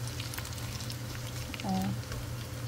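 Sisig sizzles and fries in a pan, a close, continuous crackling hiss over a low electrical hum, with a brief faint voice partway through.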